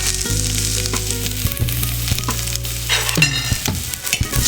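Dried red chillies fry in hot oil in a pan for a traditional Kerala chicken thoran, giving a loud, steady close sizzle with stirring scrapes throughout.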